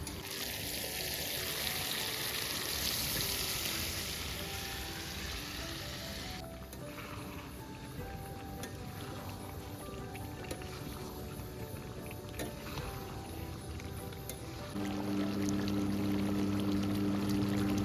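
Water poured into a pan of meat being braised with ginger paste, a steady rushing pour and sizzle close by that continues for several seconds, then shifts to a settled simmering bubble.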